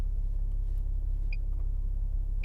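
A 2020 Toyota Supra accelerating hard from a standstill, a steady deep engine rumble and road roar held at constant loudness throughout with no voices.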